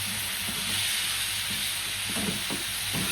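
Sliced onion sizzles in a hot pan for homemade chowmein, a quiet, steady frying hiss with a few soft stirring scrapes near the end.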